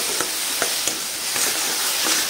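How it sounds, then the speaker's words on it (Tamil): Mutton gravy masala with curry leaves is sautéed in a pan, giving a continuous bright sizzle with a few sharp scrapes and taps of the spatula at a steady pace, close and alone. "நல்லா வதக்கி விட்டுக்கலாம் ஃப்ரெண்ட்ஸ்"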